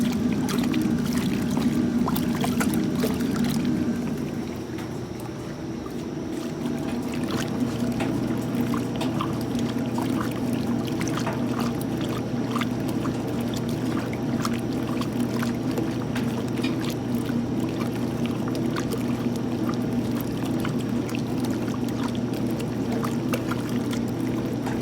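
Maytag washing machines agitating water, a steady churning slosh that runs on continuously, with a brief dip and a shift in tone partway through.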